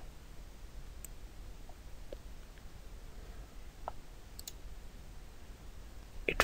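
Several sharp, faint computer mouse clicks as the sign-up button is pressed, scattered singly over a steady low background hiss, with a slightly louder click cluster at the end.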